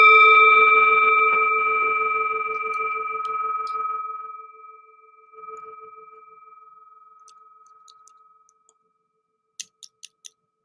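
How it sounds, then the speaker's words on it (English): A single meditation bell strikes once and rings out in a long, pure, slowly fading tone that trails off over about eight seconds, followed by a few faint light clicks near the end. "The sound of the bell returns us to our true home."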